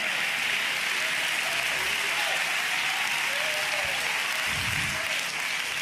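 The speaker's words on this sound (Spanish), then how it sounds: "yo creo que ese aplauso tiene que ser mejor para la gloria del Señor Jesucristo." Applause from a church congregation during a Pentecostal sermon, a steady wash of clapping that holds at moderate loudness throughout, with a few low thumps.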